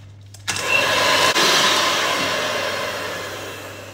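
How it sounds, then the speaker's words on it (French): An electric mixer whisks egg yolks with a whole egg and sugar, starting abruptly and then running as a loud, steady motor whir up close that slowly eases off, with no talking. "je vais prendre les 2 jaunes, je vais leur ajouter l'œuf qui me restait, le sucre et je vais fouetter tout ça"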